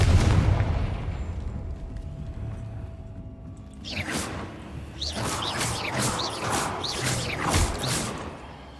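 Fiery blasting-spell explosions in the wizarding game Hogwarts Legacy: a rumbling boom, a short lull, then a rapid series of crackling bursts and whooshes over steady game ambience.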